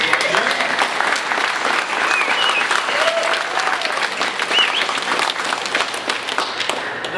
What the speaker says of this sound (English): I want to take a moment to thank you and give you some applause